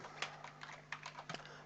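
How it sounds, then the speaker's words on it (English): Rapid, irregular keystrokes on a computer keyboard while entering data into a Microsoft Access form, with about ten close, crisp clicks over a faint steady hum and no talking. "it's just a case of typing and tabbing across, like so."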